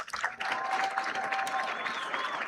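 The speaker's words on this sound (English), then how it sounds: "the crowd is in a roaring crescendo" A stadium crowd at a state high school football championship roars and applauds in a sustained, dense wash of cheering, with whistles and shouts riding on top.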